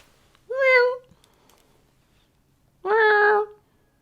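Two separate meows, the second longer and more insistent, apparently voiced by a person imitating a cat against near silence.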